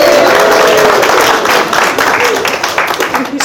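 Wedding guests cheer and clap together, a loud sustained wash of applause and shouts that gradually tapers off.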